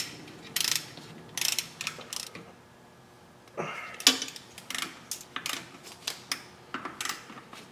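Ratcheting wrench tightening bolts on an automatic transmission, with short bursts of clicking ratchet strokes repeating through the clip, close and moderately loud, plus a brief mechanical clunk midway.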